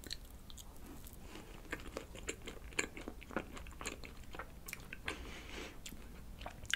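Crunchy bites and steady chewing of a Paris Baguette mint chocolate cake with chocolate sponge layers and a mint-coloured chocolate top, close and fairly quiet, with repeated crisp crunches and no talking.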